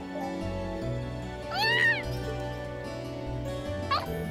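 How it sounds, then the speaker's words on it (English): A cat meows in the video game Trails of Cold Steel, one rising-falling mew followed by a shorter second meow, heard over soft looping game music. "I'm assuming the cat is back up here?"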